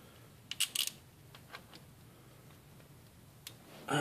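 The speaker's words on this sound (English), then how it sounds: "I'm going to put on my ratchet here and do a half a turn" A ratchet turns a rocker arm nut half a turn while setting valve lash on a small-block Chevy engine with the intake fitted: a few brief, faint clicks early on, then a louder burst of noise at the very end.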